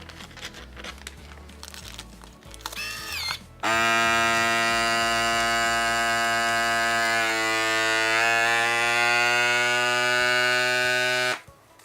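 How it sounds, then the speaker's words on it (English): A vacuum sealer pulls air from bags of seasoned ribs, a loud steady motor drone that starts abruptly after some crinkling, holds for about eight seconds and cuts off sharply. "now it's time to go ahead and vacuum seal the bags"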